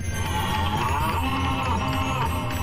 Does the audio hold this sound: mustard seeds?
no